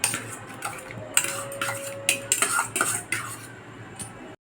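Raw prawns being mixed by hand in a bowl with ginger-garlic paste and ground onion and green chilli for mustard prawns; irregular close clinks and scrapes of utensil against dish, with short bursts and pauses, no talking.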